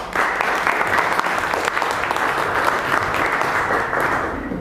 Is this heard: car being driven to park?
no